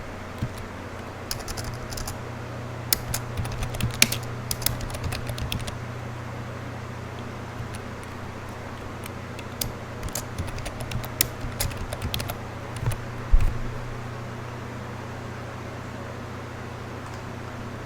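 Keys on a computer keyboard are tapped in short irregular bursts of typing over a quiet room hum while a password is entered, with pauses between clusters of keystrokes.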